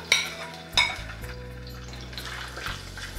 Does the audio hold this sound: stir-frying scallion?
yes